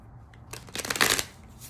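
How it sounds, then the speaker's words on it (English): Tarot cards being shuffled by hand, a quick riffling burst of papery flicks lasting about a second, close and clear. "Let me shuffle one more time."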